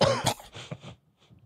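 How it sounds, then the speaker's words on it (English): A person coughs a few times in quick succession, close and fairly loud, then trails off into quieter throaty sounds. "He's always coughing and gagging."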